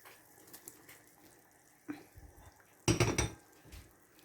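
Lentils with potatoes and a sliced roast are stirred in a cocotte, giving faint scraping and a few louder clinks and bumps of utensil against the pot over a quiet kitchen background.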